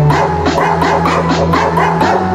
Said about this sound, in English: It's Gabe the dog in coffin dance.